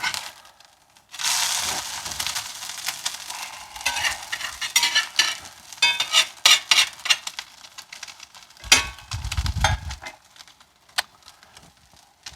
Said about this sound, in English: Now we're going to try to flip this here egg.